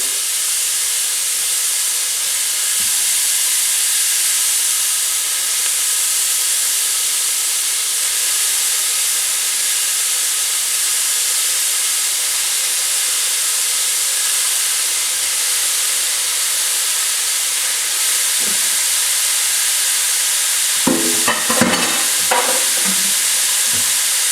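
Italian sausage meat sizzles and hisses steadily in a pan as it browns, with a few clattering stirs and scrapes near the end.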